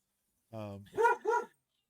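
A dog barks close by, a single voiced bark followed by two sharper yelps in quick succession, loud and alone, at a home where an elephant from a nearby national park wandered over for food.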